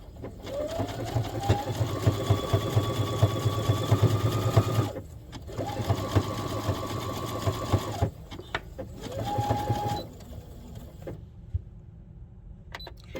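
A sewing machine stitches along the edge of the fabric for a padded figure skate guard. It runs in several close, loud bursts with short pauses between them, and fades out near the end.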